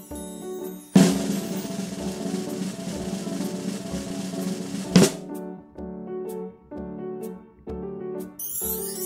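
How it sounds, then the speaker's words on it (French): A loud, continuous drum roll rumbles for about four seconds and ends in a sharp final hit, with light music before and after. "C'est un roulement de tambour."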